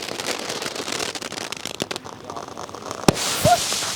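A twin ball Diwali firework from Sivakasi goes off outdoors: a sharp burst, then a second quick pop with a short rising whistle, over a steady crackling background and faint voices.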